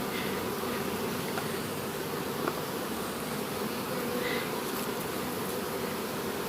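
A steady, dense buzzing of many honey bees swarming around a syrup feeder jar nearby in Jamaica, continuous throughout with no voices.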